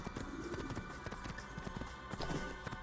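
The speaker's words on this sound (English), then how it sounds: "I'm on a horse and galloping" A horse gallops in the video game Assassin's Creed, rapid rhythmic hoofbeats pounding continuously and close amid busy in-game ambience.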